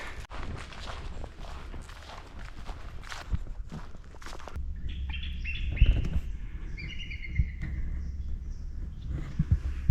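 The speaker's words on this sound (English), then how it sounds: "What you're listening to is an American bald eagle." An American bald eagle calls with repeated high, thin chirps in the open air of a coastal reserve, entering midway and continuing over the close, steady crunch of footsteps on a trail.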